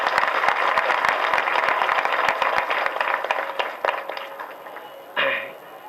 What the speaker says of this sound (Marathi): आपण सर्वांनी एकदा जोरदार टाळ्यांचा कडकडाट करावा